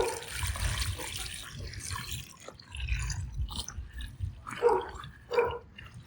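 Water pours onto sand dollars in a shallow container with a close splashing rush that fades after about two seconds. Softer drips and trickles follow.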